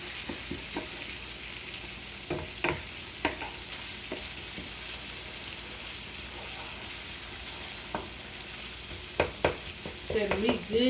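Ground beef frying in a pan, with a steady sizzle and a utensil scraping and knocking now and then as it chops the meat, the scrapes growing busier toward the end.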